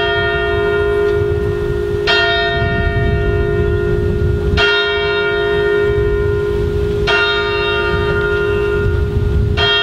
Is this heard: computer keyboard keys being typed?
no